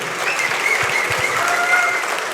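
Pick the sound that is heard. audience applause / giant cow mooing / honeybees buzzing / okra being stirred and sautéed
audience applause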